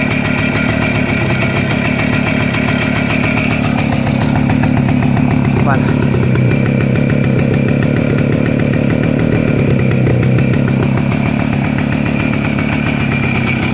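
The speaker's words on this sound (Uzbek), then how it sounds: "Mana motorlar quloq solib ko'ring aka. Hali sovuq motor, gaz berib ko'raman." A cold motor engine running close by while the throttle is opened: a loud steady rumble that rises and falls in pitch as it is revved a few times, with someone speaking over it.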